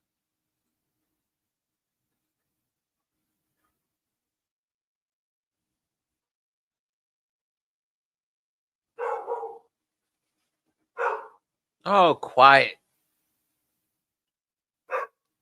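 A dog barks several times in short bursts close by, with a double bark in the middle and one more yelp after a pause, and a person briefly hushes it.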